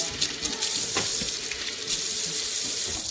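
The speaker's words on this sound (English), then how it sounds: "Now I'm gonna clean my hands" Tap water runs into a sink as hands are washed after cutting an onion, a steady, close hiss of flowing water with slight splashy variation, continuous for a few seconds.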